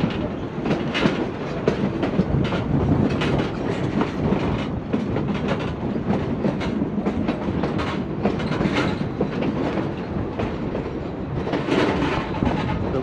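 Cumbres and Toltec Scenic Railway train rolling along the rails near Chama, New Mexico, with a steady loud clatter of wheels and rhythmic clicks throughout, wind noise mixed in, no talking.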